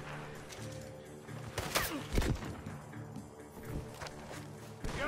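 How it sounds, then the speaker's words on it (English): Gunfire in the video game Red Dead Redemption 2: several sharp, loud shot bursts spaced a second or two apart, with a sustained musical score underneath. "The gunshots are coming from that."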